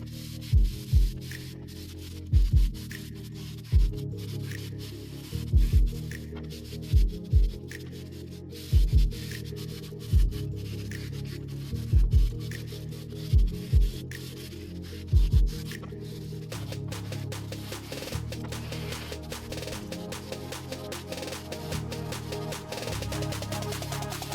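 A Akrapovic exhaust on a Hayabusa is sanded with fine grit sandpaper: rhythmic rubbing strokes in regular bursts for about fifteen seconds, close and fairly loud, then a softer continuous scrubbing.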